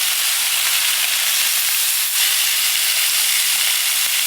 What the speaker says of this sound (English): put this meat on the grill. So, New York strips going down. Filet mignon going down.